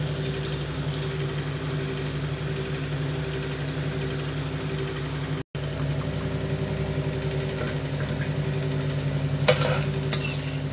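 Onion pakoda, made with onion and gram flour, crackles as it deep-fries in oil and is stirred, a steady close sizzle with a brief dropout midway and a few sharper scrapes near the end, with no talk.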